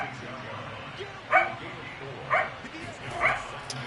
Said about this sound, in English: Sorry about the dog. She's just excited to play this morning.